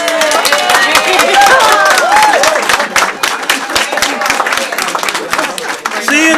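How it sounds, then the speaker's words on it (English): Crowd applause at a press conference, sustained loud clapping with cheering voices mixed in, steady throughout with people talking over it. "See, and I didn't even have to tell him to give you a round of applause."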